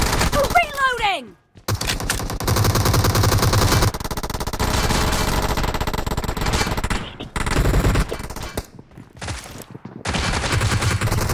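Automatic gunfire in the mobile game BGMI, loud rapid machine-gun bursts filling most of the stretch with short pauses, after an opening descending whistle-like effect.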